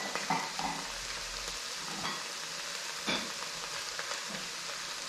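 Pickling liquid in a pot is heated to a boil, giving a steady, moderate bubbling hiss with occasional soft pops and knocks, with no voices.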